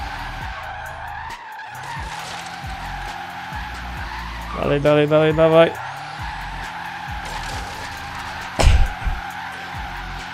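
A Tesla drifts in Forza Horizon 3, its electric motor whining under repeated rhythmic tire skids, with a sharp squealing burst midway and a thump near the end, while someone talks over it.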